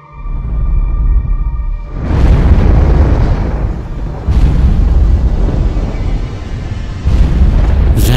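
A heavy rumbling explosion effect for a black hole eruption, with deep roaring booms swelling in three successive waves, loud and sustained without any voices.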